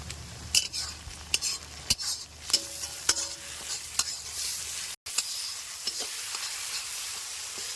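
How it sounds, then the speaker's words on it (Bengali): Chopped tomato goes into a pan of frying onions and spices for a cauliflower roast gravy, bringing steady sizzling with repeated clinks and scrapes of a stirring spoon against the pan, close and with no talk. "এখন দিয়ে দেবো টমেটোটা, কুচি করে রাখা টমেটোটা"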